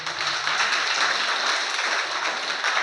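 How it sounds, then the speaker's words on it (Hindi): Children clapping together loudly, a dense steady patter of hands that runs without a break for a few seconds, with no voices over it. "जोरदार ताली बजाओ"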